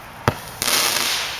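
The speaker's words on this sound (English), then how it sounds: "that was our good firework" A firework goes off outdoors: a sharp crack, then a louder bang about a third of a second later that trails into a sustained crackling hiss. No voices.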